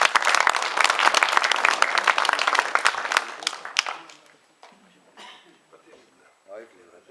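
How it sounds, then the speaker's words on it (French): An audience at an evening folk gathering applauds Yann with dense clapping for about four seconds, then it breaks off into scattered claps, coughs and low murmurs. "on peut applaudir Yann. Bravo."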